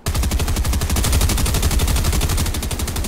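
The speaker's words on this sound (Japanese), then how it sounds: "こいつ撃ってる、こいつ撃ってる。" Loud, continuous rapid-fire gunshots in Fortnite, a steady machine-gun rhythm running the full length with no pauses and no talk.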